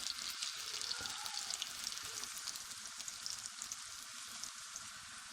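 Onion, ginger and garlic frying with kidney mutton in a pan, a soft continuous sizzle with crackling pops, faint and steady, no voices.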